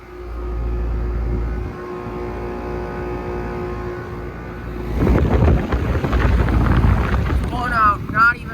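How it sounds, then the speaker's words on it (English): Three Armstrong Air dual-zone air conditioner units with Emerson scroll compressors and sound blankets run together outdoors, a steady low hum and drone that grows louder and busier partway through, with wind buffeting the microphone. "I really love these compressor sounds in these dual zone Armstrong Airs"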